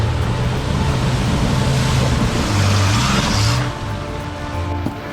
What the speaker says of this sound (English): Return around, pass the ford again, and drive home.